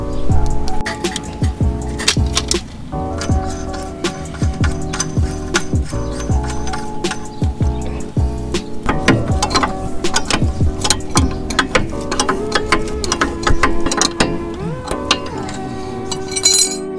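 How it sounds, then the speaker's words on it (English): BC Racing coilovers being adjusted with their supplied tools, giving repeated close metallic clinks, taps and ratcheting clicks in an irregular rhythm with a few ringing metal tones. "That way I can adjust the coilovers with no problem."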